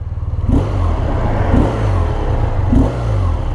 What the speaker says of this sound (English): You immediately get that BMW Boxer rumble.